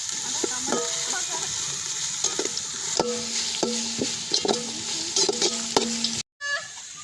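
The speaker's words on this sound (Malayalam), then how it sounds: "നന്നായി ഒന്ന് വഴറ്റിയെടുക്കാം. നമ്മൾ ഈ വെളിച്ചെണ്ണയിൽ ഒഴിച്ചേട്ടാ നെയ്യാണ് ഒഴിച്ചേക്കുന്നത്" Food sautés in hot ghee with a bright continuous sizzle, broken by repeated tonal scraping strokes of a spoon against the pan, before a sudden short dropout near the end.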